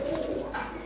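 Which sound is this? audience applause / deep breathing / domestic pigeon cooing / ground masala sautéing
domestic pigeon cooing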